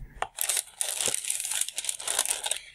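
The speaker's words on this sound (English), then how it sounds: "I'll just unwrap it now." Unwrapping a GlossyBox beauty subscription box, August 2014 UK edition: steady close crinkling and crumpling of wrapping paper or tissue, continuous with brief gaps, and no talk.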